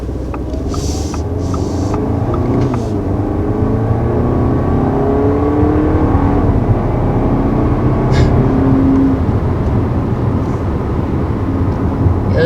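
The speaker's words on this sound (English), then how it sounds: "this 2-liter turbo is strong. It's strong all the way through the power band, and it really gets you going." A 2020 Audi A4 45 Quattro with a 2-liter turbo engine accelerates hard, its steady drone rising in pitch through the gears over a constant road roar, loud and close from inside the cabin.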